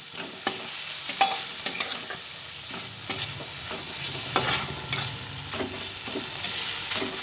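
Gobindobhog rice stirred in a frying pan for a vegetarian jackfruit curry, a steady run of spoon scrapes and clinks over a faint sizzle, close and fairly loud, with no voices.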